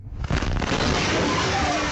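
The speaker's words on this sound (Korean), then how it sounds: "인도의 한 가정집에서 가스 실린더가 폭발했습니다" Gas cylinder explodes inside a house in Mumbai, India: a sudden loud blast bursts in after a brief quiet moment, then a dense, roaring rumble sustains at high level with no let-up.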